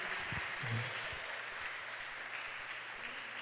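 A church congregation claps during a Spanish-language sermon, a moderate, fairly distant wash of applause with a few low thumps near the start, fading slightly toward the end.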